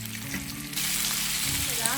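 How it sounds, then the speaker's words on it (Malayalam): Chicken pieces fry in hot oil for Arabian kabsa, a close hissing sizzle that starts quieter and jumps to a full, louder fry partway through, with a faint voice underneath. "ഇനി നമുക്ക് ഇത് കോരി മാറ്റിയിട്ട് അടുത്ത ബാച്ച് ഇട്ടിട്ട് ഫ്രൈ ചെയ്തെടുക്കാം."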